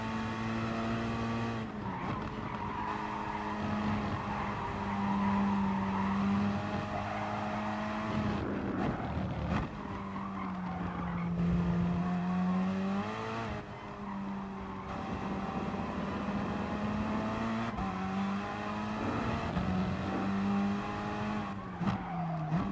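Gr.3 race car in Gran Turismo Sport at Interlagos: a loud, continuous engine drone rising and falling through gear shifts, with brief dips on braking and tire noise, no voices.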